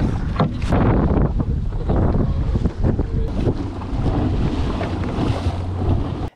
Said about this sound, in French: Fais coucou au bateau moteur.